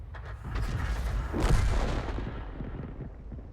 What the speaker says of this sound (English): He fired one at the Wolverine, just misses him.